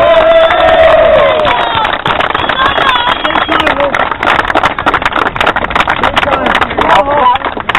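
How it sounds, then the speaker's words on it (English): Dense, sustained applause from a large crowd at a street protest in Blackpool, loud and continuous, with cheers and voices mixed in throughout. "A round of applause."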